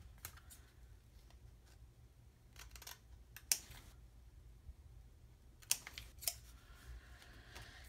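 Scissors trimming paper in a handmade journal, quiet scattered snips and clicks at close range, with a few sharper cuts standing out against a low background hum.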